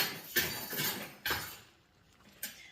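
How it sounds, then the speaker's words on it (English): A baby plays with a metal teaspoon measuring set, producing faint, scattered clinks and rattles of light metal, with a few sharper knocks among softer jangling. "That's my baby playing with a teaspoon measuring set."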